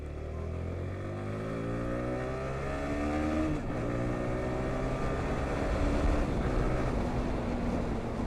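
A motorbike engine runs steadily while being ridden, its pitch climbing through the gears with rising revs and shifts, loud and close over constant wind and road noise.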